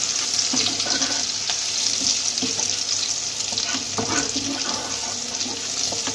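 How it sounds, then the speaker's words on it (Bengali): Garlic frying in oil in a pan for prawn malai curry makes a dense, steady hiss and crackle close up, with occasional stirring scrapes and no pause. "একটু ভাজা ভাজা হয়ে গেছে রসুনটা"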